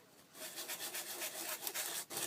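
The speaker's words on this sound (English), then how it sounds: "a nice grit sandpaper, and I don't even know the grit of this is" Sandpaper of grit 100 rubs back and forth over cork in quick, even strokes, close and fairly soft, with no one speaking.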